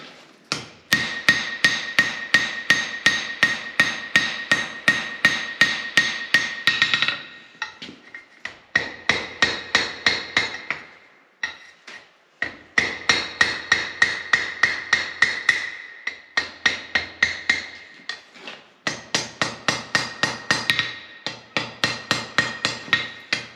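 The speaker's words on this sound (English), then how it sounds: "I'll just keep going with my main hammer" Rapid, ringing hammer blows strike hot steel on an anvil while forging bolt jaw tongs, in steady bursts, loud and close, with brief pauses between heats.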